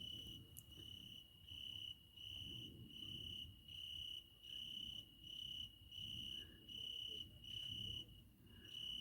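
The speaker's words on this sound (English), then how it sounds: "If you just listen, you'll hear all the crickets." Crickets chirp at night in a valley, a steady high trill pulsing in regular bursts about once a second, faint but clear over a quiet low background.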